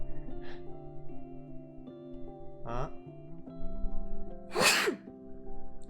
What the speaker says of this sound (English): I have to sneeze, but I can't see my Streamlabs, so I can't mute.